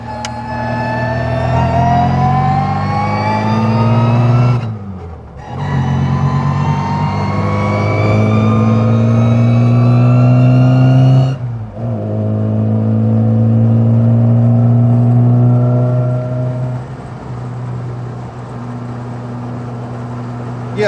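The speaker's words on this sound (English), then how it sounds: "We shall accelerate very gently up to speed on the dual carriage" An MG Midget with a Lenham Le Mans GT body accelerates on a dual carriageway, its engine note climbing steadily through the gears with two brief dips at gear changes, loud and continuous from inside the car.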